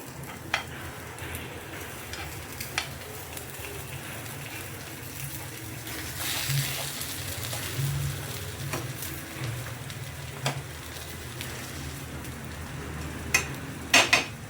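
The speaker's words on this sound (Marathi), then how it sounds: "मस्त गोल्डन रंगावरती आपण ह्याला फ्राय करायचं आहे" Eggplant slices fry in a pan of oil until golden, giving a steady close sizzle and crackle, with a few sharp clinks from a utensil now and then.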